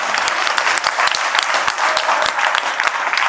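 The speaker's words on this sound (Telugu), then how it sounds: "మనం చప్పట్లు కొట్టాలి" Students in a classroom applauding their teacher, a dense burst of many hands clapping at once, loud and close, sustained evenly for a few seconds.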